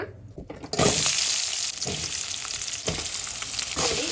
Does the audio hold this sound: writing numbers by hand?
no